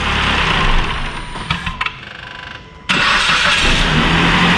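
A Dodge Caliber with a no-crank, no-start fault runs loudly up close, then cuts out into a brief quiet stretch with a few clicks before the engine fires abruptly back to a strong, steady running roar.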